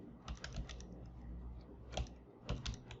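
Someone types a table name on a computer keyboard, quick clustered keystrokes in uneven bursts, faint and close with a low background hum.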